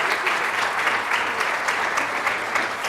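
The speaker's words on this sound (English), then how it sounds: "So a big round of applause." An audience at a talk on elder caregiving applauds in a loud, even, continuous wash of clapping that holds steady throughout.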